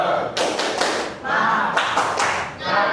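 A classroom performs a rhythmic cheer clap, several quick bursts of group clapping in a patterned beat with thumps, close and fairly loud, with voices chanting along.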